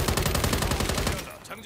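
SIG XM7 rifle fired in Call of Duty: Modern Warfare 3 multiplayer, a loud, rapid burst of sustained automatic fire for over a second before cutting off, leaving faint game ambience.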